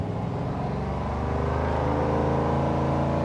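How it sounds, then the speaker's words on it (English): A 1970 Dodge Challenger convertible with a Hemi V8 rumbles loud and close while driving, its deep engine note steady and building slightly throughout with no talking. "I'm out driving a Hemi."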